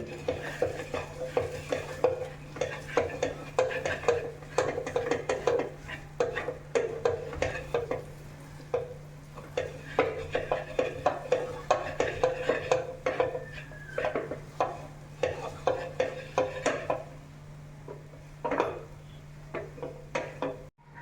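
A spoon scrapes and stirs steadily around a pan of lapsi, a cracked wheat sweet, with ghee, a continuous rhythmic clatter with a soft sizzle underneath and a low steady hum.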